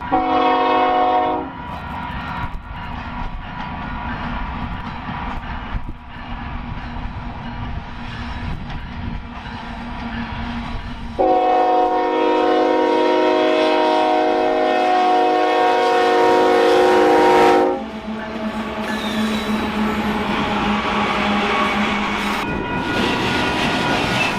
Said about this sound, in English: is that another train coming from the other direction?